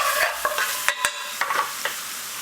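Pre-cooked dhal being mixed with spices in a pan over low gas for a mushroom dansak, a soft background sizzle broken by a few sharp spoon scrapes and taps spread through the stir.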